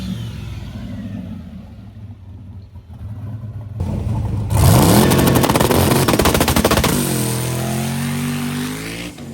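A freshly rebuilt drag racing truck launches down the strip, a rough idle giving way to a sudden loud crackling roar that rises in pitch as it pulls away, then fades.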